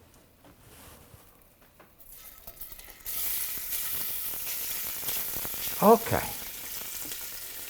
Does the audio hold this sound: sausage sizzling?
yes